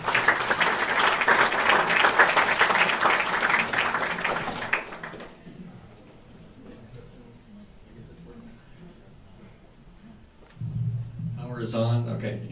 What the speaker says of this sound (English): Please join me in a round of applause for him.